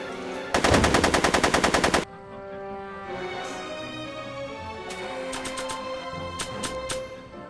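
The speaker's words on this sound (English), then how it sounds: "I'm finding it difficult to concentrate with all the bullets flying around my head, Mr. Corleone." Rapid automatic gunfire bursts loudly through a Back to the Future adventure game cutscene for about a second and a half, then gives way to a quieter musical score with a few faint sharp accents.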